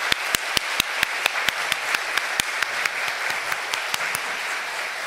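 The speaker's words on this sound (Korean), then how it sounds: "하나님께 영광 박수를 드리겠습니다" A church congregation applauds at an Easter Sunday service, with loud, dense, sustained clapping throughout and sharp rhythmic claps standing out on top of the crowd.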